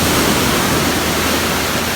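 Ocean waves break on the beach at Cape May, giving a loud, continuous broadband wash of surf and roaring water. The sound stays steady and close throughout, with no voices.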